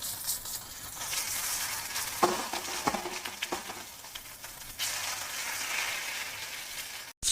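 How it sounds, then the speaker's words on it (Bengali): Rui fish sizzling and crackling in hot oil in a pan, a steady dense frying hiss with brief bursts and a short break near the end, no one talking. "তাহলে চলো এই মাছগুলো ভেজে নিয়ে তারপরে আবার আসছি তোমাদের কাছে ফিরে।"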